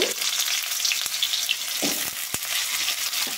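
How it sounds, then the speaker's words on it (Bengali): Potatoes, carrots and cauliflower hit hot oil with whole cumin, giving a steady close sizzle and crackle with a few sharp pops and spoon stirs, no voices. "আমি আলু, গাজর আর ফুলকপিটা দিয়ে দিলাম।"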